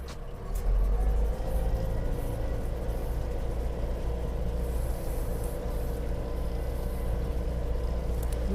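A DTZ 5504N tractor pulls a Kverneland 2-40 plough through wet, near-boggy field ground, its engine a steady loud close rumble throughout, running at a fourth low gear.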